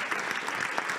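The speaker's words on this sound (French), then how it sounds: "Je pense qu'on peut l'applaudir parce qu'il a assuré" Audience clapping for a speaker at a startup business day event, a dense steady burst of many hands applauding close by, brief and continuous.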